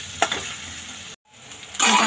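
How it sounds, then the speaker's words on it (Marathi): Potato frying in oil with green chili paste for a fasting masale bhaat, giving a faint sizzle with a stirring clatter, a brief silent gap, then a louder burst of sizzling, with no talk. "तो 2 मिनिट आपण तेलामध्ये फ्राय करून घेऊया ह्या हिरवी मिरचीच्या पेस्टमध्ये"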